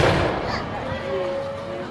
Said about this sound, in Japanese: この花火なんですけど、毎年やってます。